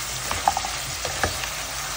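Mutton kadai curry sizzles steadily in a pan while being stirred, a constant close frying hiss with a few soft scrapes and clinks of the spoon.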